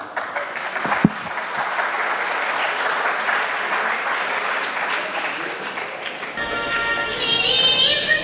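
Sustained audience applause at a Pakistan Day celebration and awards ceremony at Queens Borough Hall in New York, a thick continuous roar of clapping for about six seconds before music-like tones take over.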